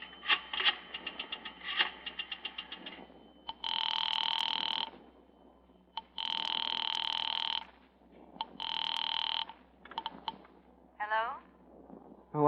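A house telephone in an old radio drama rings three times in long, loud, separate bursts with pauses between, after some voices and small clattering noises.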